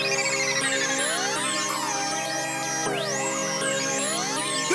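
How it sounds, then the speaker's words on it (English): DJ record scratch effects sweep up and down in quick, repeated pitch swoops over a sustained synthetic harmonic backing, loud and continuous like a produced beat. "And I also had like these DJ record scratches."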